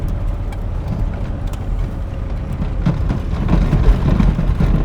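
A Toyota Cressida runs laps on a track, its engine giving a steady low drone with road and wind noise that swells slightly toward the end, heard from inside without any talk.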